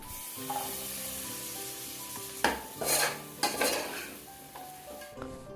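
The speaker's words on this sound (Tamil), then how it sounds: "மசாலாவை அப்படியே எண்ணெயிலே ஒரு பிரட்டிட்டு நம்ம குக் பண்ணி வச்ச ராஜ்மா சேர்த்துட்டு நல்லா கலந்து விட்டுறலாம்" Cooked rajma being stirred into masala in hot oil, with a soft frying sizzle and several scraping, clattering strokes of a spoon against the pan, close by, no speech.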